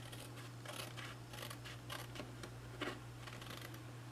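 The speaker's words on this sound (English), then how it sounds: "So we're going to cut on the first score line here" Scissors cut card stock along score lines for a folded Christmas card, a quiet run of crisp repeated snips close up over a low hum.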